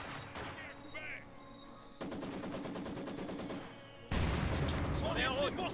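Machine gun fire in the World War II strategy game Company of Heroes 2, sustained rapid bursts of automatic fire that grow louder, mixed with battle noise and game voices.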